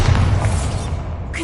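A Bombarda spell explosion in Hogwarts Legacy: a heavy, sustained low boom that rumbles steadily through the whole moment without easing off.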